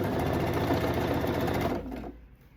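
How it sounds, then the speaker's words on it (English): A sewing machine runs a zigzag stitch along the folded edge of blue mesh fabric with flower appliqués, a fast steady whirring rattle up close that slows and stops near the end. "then just do a zigzag stitch all the way around"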